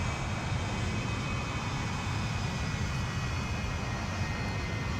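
The jet engines of a Tupolev Tu-16 Badger bomber in Flight Simulator X roar as one continuous, steady, fairly loud broadband drone with an even hiss on top that does not change.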